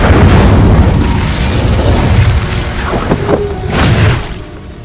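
Casting the Incendio fire spell in Hogwarts Legacy produces a loud, dense whooshing boom of flame that roars continuously for several seconds, with brief bright crackles and a faint chime near the end.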